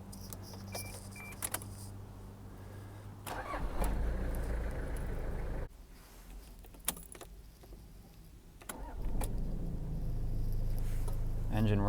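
A 1993 Toyota Hiace van is started: keys and clicks, then the engine cranks and catches into a low idle, cuts briefly, and fires again to a steady close idle, with someone talking quietly at times.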